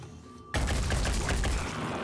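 Sustained automatic gunfire from the tactical video game Phoenix Point erupts abruptly after a quiet moment, loud and dense rapid shots running continuously to the end, with no speech.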